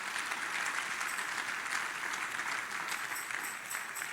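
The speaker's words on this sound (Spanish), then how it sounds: "Démosle un fuerte aplauso al Señor." Church congregation applauding steadily, a dense, sustained wash of clapping at moderate distance filling the whole stretch and easing slightly at the end.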